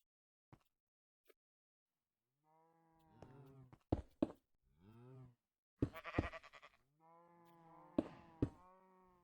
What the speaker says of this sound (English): now we just need to get another sheep in